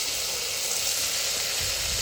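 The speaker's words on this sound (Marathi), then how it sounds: "असा फ्राय करून कुकरमध्ये असं मस्त परतून घेणार आहोत" Cauliflower, peas and other vegetables frying in a pressure cooker for bisi bele bhat give a dense, loud, continuous sizzle with a steady hiss, heard up close without speech.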